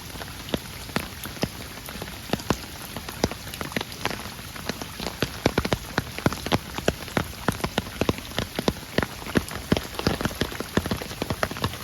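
Steady rain falls on a surface during a crab-catching trip, with dense, continuous patter and sharp individual drops hitting nearby, loud and unbroken with no talking.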